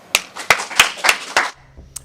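A few people clap briefly in a sparse, irregular run of about five distinct claps, fairly close, ending with a short low hum and one faint final tap.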